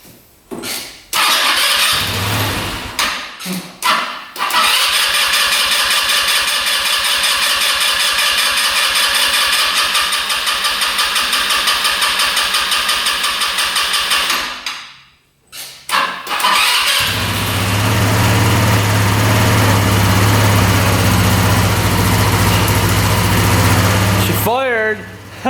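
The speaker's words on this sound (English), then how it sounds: "Let's see if this free scooter will start up here." A small scooter engine cranks a few times, catches, and settles into a steady buzzing idle with a brief cutout before restarting, loud and close.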